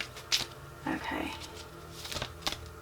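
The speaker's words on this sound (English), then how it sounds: "These cards are a little hard to shuffle." Tarot cards being shuffled by hand, with soft riffling bursts and quick clicks scattered through a short stretch, faint and close, while a person talks quietly.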